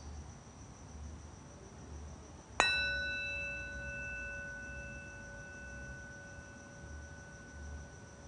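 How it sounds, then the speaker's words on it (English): A single meditation bell is struck once after a quiet stretch of soft background hiss, then rings with a clear sustained tone that slowly fades over several seconds. "when you hear the bell, shift your awareness to the domain of the mind"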